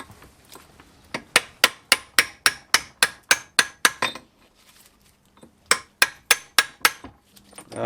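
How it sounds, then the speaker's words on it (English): Sharp metallic hammer taps bending back a lock tab on the large front nut of a Classic Mini 1380 gearbox, a steady run of about a dozen close, ringing strikes, a pause, then five more. "there's a lock tab on this big front nut here, which we'll just tap back"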